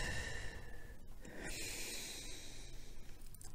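Deep, slow breathing from a person holding a seated Pilates nose-to-knees stretch, a steady airy hiss of inhales and exhales close to the mic in a quiet room, with no talking.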